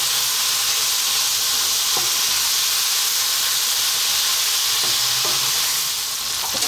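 Green beans cook in tomatoes in a pan on medium heat, giving a loud, steady, close hiss and sizzle with a few soft stirring taps and no voices.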